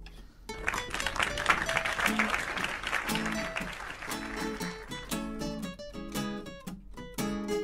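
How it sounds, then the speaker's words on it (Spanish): Studio audience at a live FM radio studio show clapping eagerly, a steady wash of applause that continues under bright, rhythmic music with punchy repeated chords toward the end. "Estaba ansiosa la gente, que quería aplaudir."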